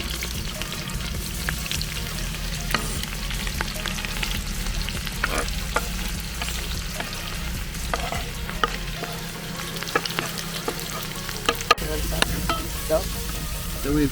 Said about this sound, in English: 3 tablespoons of garlic, crushed garlic, and now I've added the lamb shank